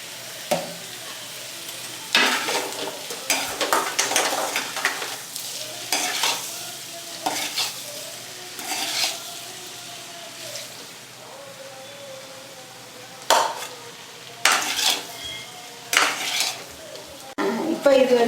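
Potato poriyal cooking in a pan over a slow flame, seasoned with salt: bursts of spatula scraping and stirring rise over a soft, steady sizzle, with quieter pauses between strokes.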